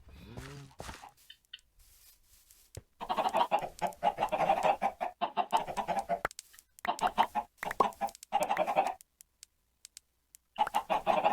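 Chickens in the Minecraft video game clucking repeatedly in close, loud bursts, a string of throaty bawks with short gaps between them.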